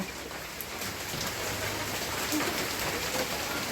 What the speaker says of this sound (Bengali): টিনের চালে বৃষ্টির আওয়াজ আসলেই খুব উপভোগ্য।